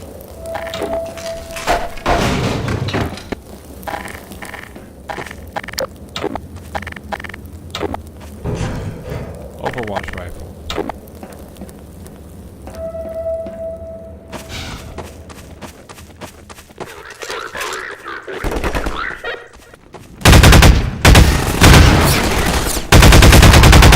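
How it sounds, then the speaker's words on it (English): Half-Life 2 game audio during the Ravenholm chapter, with explosions and gunfire-like bursts going off outside, sharp repeated impacts scattered through the sequence, and a dense, loud roar near the end. "I love the sound effect with the explosions outside."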